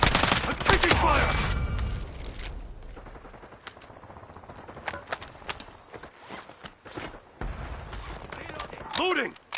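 Gunfire in Call of Duty Warzone, a loud burst of rapid shots at the start, then scattered sharp single cracks and thuds at varying distances, with a voice talking intermittently.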